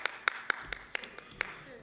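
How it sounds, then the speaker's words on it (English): A smattering of applause in a House of Assembly chamber: a handful of sparse, separate claps, about eight, irregular and fairly faint, with a quiet room behind. "Smattering of applause."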